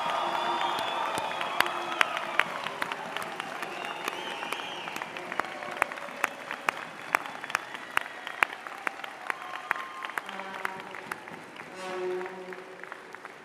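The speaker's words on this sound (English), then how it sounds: "I will ask your friends and family to join me in applauding the incredible graduating class of October" An audience at a Simon Fraser University fall 2010 convocation applauds the graduating class, with steady clapping and sharp individual claps, a few cheers, and voices near the end.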